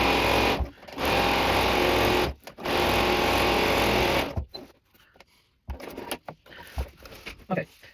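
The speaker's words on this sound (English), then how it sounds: "I'm just going to sew along the edge of this fabric" A domestic sewing machine stitches along the fabric edge of a quilted pillow, running in two long steady buzzing runs with a short stop between, then going quiet amid fabric rustling and small handling sounds.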